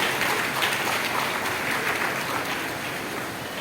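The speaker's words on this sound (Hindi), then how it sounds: "मैं चाहता हूं जोरदार तालियां बजाई जाए उनके लिए।" Audience applause for meritorious students at an award ceremony, a dense, steady clapping from a large seated crowd, moderately loud and continuous throughout.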